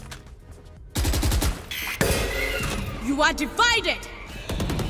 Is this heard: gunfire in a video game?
yes